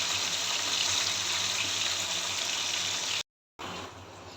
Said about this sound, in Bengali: কাতলা মাছগুলো হলুদ গুঁড়া, মরিচ গুঁড়া দিয়ে মেখে সামান্য ভেজে নিচ্ছি।